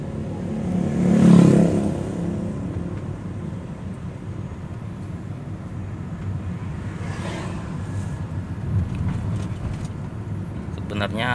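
An automatic car pulls away and accelerates after being shifted into D3, a steady engine drone with a louder surge near the start, heard from inside the cabin with talking over it.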